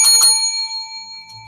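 A single bell strikes in a radio studio, a bright ringing tone with several sustained harmonics that fades slowly over the next second, with no talk over it.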